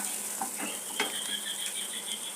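Salted, turmeric-spiced vegetables fry in a pan with a steady soft sizzle, punctuated by several light metallic clicks and scrapes of a spoon stirring, close and quiet.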